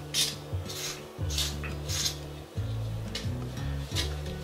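A fork works through stiff biscuit dough in a bowl, giving steady scraping and rubbing strokes at close range with soft thuds in an uneven rhythm.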